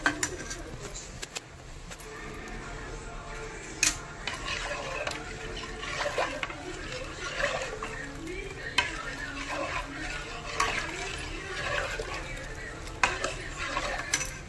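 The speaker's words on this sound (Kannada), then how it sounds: "ಇವಾಗ ಗಟ್ಟಿ ಆಗೋವರೆಗೂ ಕೈ ಬಿಡ್ದಿರ ಕಲಿಸ್ಬೇಕು." A thickening rice halbai mixture with sugar is stirred in a pan. It gives continuous scraping and soft bubbling sizzle, with occasional sharper knocks of the spoon against the vessel, close up.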